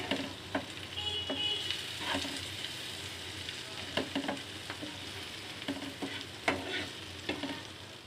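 Turmeric and Kashmiri chili powder sauté in hot oil for a Bengali rui posto, a steady close sizzle broken by repeated scrapes and clinks of a spatula stirring the pan, with no voices.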